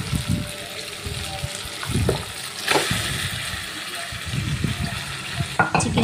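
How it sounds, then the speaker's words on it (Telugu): Raw chicken goes into frying curry masala and is stirred, giving wet scraping and clattering stirs over a soft sizzle in irregular bursts, close and moderately loud. "బాగా వేగిపోయింది కదా, ఇందులో ఇప్పుడు మనం చికెన్ వేసుకుందాం."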